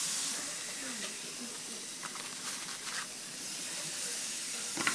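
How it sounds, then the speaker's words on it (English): Food sizzling in a frying pan on the stove, a steady close hiss with faint crackles and a few brief clinks, no voice over it. "see, it's sizzling."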